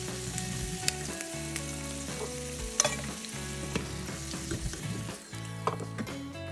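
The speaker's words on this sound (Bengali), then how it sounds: "ভাজার মধ্যে আলুগুলো আধা সেদ্ধ হয়ে যাবে" Potatoes fry in hot oil for kacchi biryani, a close, continuous sizzle broken by irregular stirring clinks and scrapes, with no talking.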